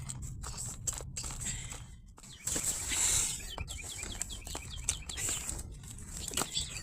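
Birds chirp outdoors in a spring garden during planting, with light, scattered high tweets and brief flutters that are fairly faint over soft rustling nearby.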